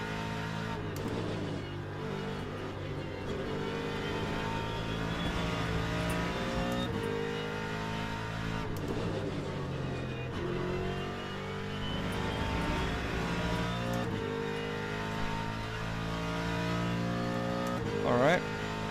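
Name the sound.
race car engines at Monza in Le Mans Ultimate video game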